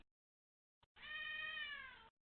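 A cat gives a single clear, drawn-out meow, close and fairly quiet, preceded by a tiny click.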